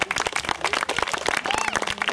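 An audience at a taekwondo club event claps continuously, with dense overlapping hand claps at a fairly loud, even level and a faint murmur of voices beneath.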